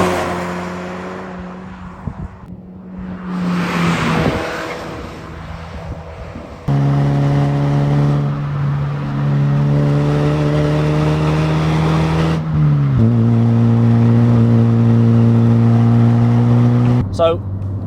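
A Toyota hot hatch fitted with a factory-option TTE back box exhaust is driven hard through corners, its engine loud and close with rising and falling revs and gear changes, and someone talks briefly over it.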